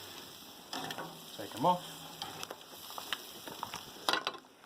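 Pork steaks for a Thai nam tok moo salad sizzle on a barbecue grill, a steady crackling hiss with scattered pops and clicks, close by, while a voice speaks briefly over it.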